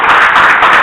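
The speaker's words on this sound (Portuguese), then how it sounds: "Podemos acertar e palmas para o Senhor Jesus." Congregation clapping hands together in a church service, a dense, steady wash of many hands applauding close by throughout, with no talk over it.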